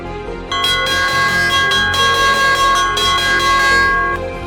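An electric school bell rings loud and continuous for several seconds, with a bright metallic clang and no voices.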